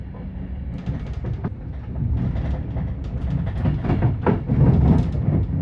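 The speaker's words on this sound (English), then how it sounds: "Manchester to Stockport is a comically short journey to make in an intercity train" An intercity train runs from Manchester to Stockport, with a steady low rumble and rhythmic wheel clatter heard from on board, growing slightly louder and busier toward the end.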